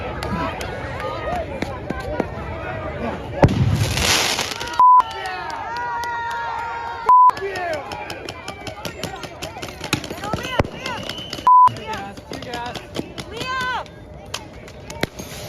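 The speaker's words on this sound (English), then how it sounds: "it's super illegal when they throw fireworks." Fireworks thrown at police during a street protest crack and pop in a dense, irregular scatter, with sharp bangs and a loud burst of hissing noise, all over crowd shouting and ongoing speech.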